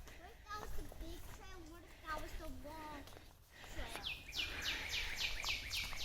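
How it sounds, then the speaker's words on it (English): Birds in a nature park chirp and sing in repeated whistled phrases, with a rapid trilling call later, mixed with people talking and walking outdoors. "You hear the birds?"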